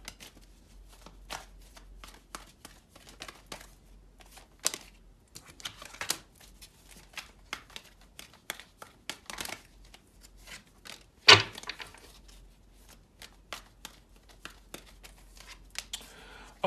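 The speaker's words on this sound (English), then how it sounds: "let's get a few cards out." Tarot cards are shuffled by hand in a quiet room, a long run of soft, irregular riffling flicks and taps with one sharper snap partway through.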